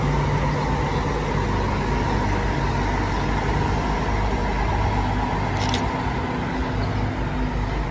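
A Mercedes-Benz O500 RSD double-deck coach moves off from a roadside rest stop, its diesel engine holding a steady close rumble with constant tonal drone throughout, and no speech over it.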